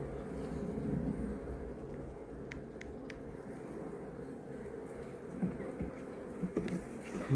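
Honey bees buzz around an open hive during an inspection, a continuous, close, low droning swarm with a few brief clicks and knocks from handling the frames.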